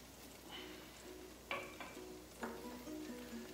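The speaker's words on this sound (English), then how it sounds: "when you hear that garlic sizzle a little bit" A quiet, steady sizzle of garlic frying in a hot pan, with a couple of sharp utensil clinks against the metal.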